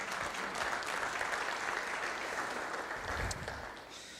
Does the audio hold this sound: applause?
yes